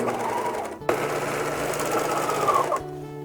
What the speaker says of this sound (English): my machine is having some trouble going over these seams